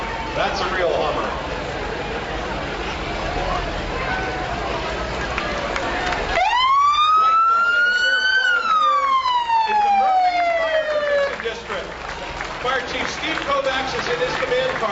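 A fire engine siren wails partway through a parade procession, rising and falling loudly close by over crowd noise and people talking.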